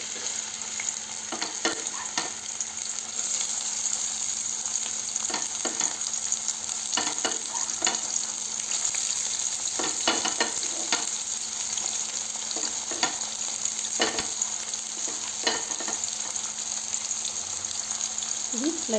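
Onions fry in hot oil for fish curry, an even, continuous sizzle running throughout with scattered clicks and scrapes of a spoon stirring the pan.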